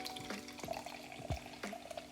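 Non-alcoholic rosé wine is poured into a glass, a faint uneven trickle with several drippy splashes and gurgles, quiet and close, no talking.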